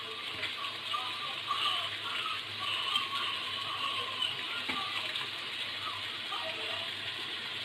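Tomatoes being washed under running water from a tap, a steady close hiss and splash of flowing water with faint handling sounds, continuous throughout.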